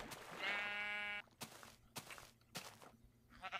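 A sheep in Minecraft gives one loud, close, wavering bleat, followed by a few soft blocky footsteps and thuds in a quiet game scene.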